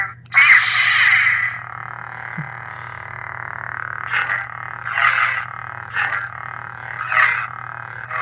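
The default sound of an Ultrasabers Crimson Dominicide lightsaber: a steady electronic hum with a low drone, broken by a loud ignition burst and several swooshing surges as the blade swings.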